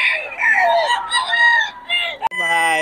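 A Yellow-legged Hawk gamefowl rooster at Bocaue crows loudly and close by, giving a drawn-out harmonic cock-a-doodle-doo and then starting another crow after a brief sharp break.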